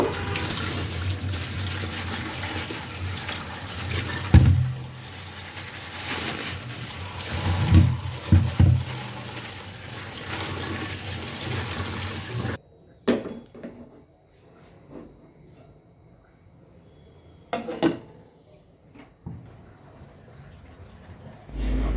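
Running water from a tap splashes steadily as taro is washed, a broad hissing rush with occasional clunks and splashes that cuts off partway, then gives way to quieter drips and sporadic handling sounds.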